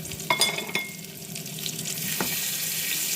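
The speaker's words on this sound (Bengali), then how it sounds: "তারপর মাছগুলো ভাজি করে নিব।" Pieces of shol (snakehead) fish fry in a pan with a steady, close sizzle, with a few sharp pops and utensil stirring sounds near the start, and no talking.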